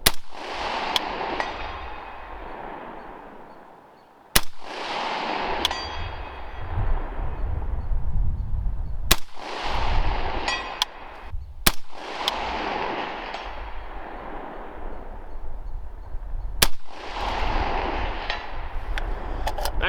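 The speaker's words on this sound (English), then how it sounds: "We will reload and shoot some more." Rifle shots fired while testing a Primary Arms 3x32 Gen III SLX prism optic come as six loud, sharp cracks at irregular intervals, each trailing into a long rolling outdoor echo, with no voices.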